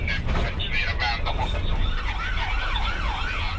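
London ambulance siren wailing, the rising and falling two-tone sweep growing clearer over continuous traffic rumble, loud and fairly close.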